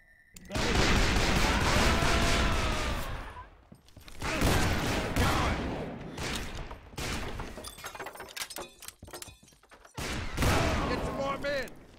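Repeated gunfire in the Western shooter game Call of Juarez: Bound in Blood at the OK Corral, loud bursts and volleys in several clusters with brief gaps, mixed with shouting voices.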